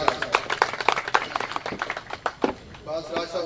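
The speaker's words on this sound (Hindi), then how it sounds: "बहुत सारी तालियों में राना इकबाल साहब।" Scattered hand clapping from a small audience, uneven sharp claps close by, with a voice speaking over them toward the end.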